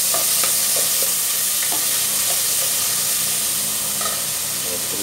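Tomatoes being stirred into a simmering crab and coconut stew in a pan, heard as a steady sizzle and hiss with soft, scattered scraping of the spoon. A voice murmurs faintly underneath.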